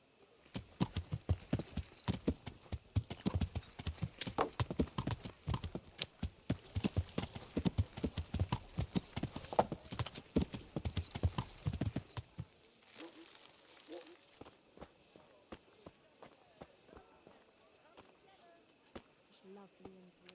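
Horse hooves clip-clop in a quick, steady rhythm in Kingdom Come: Deliverance, loud and close for about twelve seconds, then fade to quiet ambient sound with faint distant steps.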